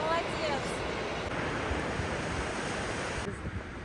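Sea waves wash onto the beach at Deauville in a continuous broad surf hiss mixed with wind buffeting the microphone, steady and fairly loud throughout.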